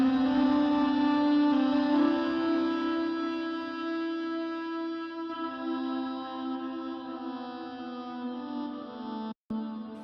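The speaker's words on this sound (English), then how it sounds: "So this was the distortion lead." A sustained synth lead with heavy distortion and a wash of reverb rings out in a long bright tone, an Access Virus-style preset from an electronic track, fading slightly before a brief cutoff near the end.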